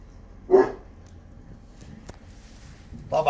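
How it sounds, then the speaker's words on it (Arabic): A giant, purebred Caucasian shepherd dog barks twice, one loud close bark near the start and another at the very end, with quiet between them. "خذ لي صورة من الكلب."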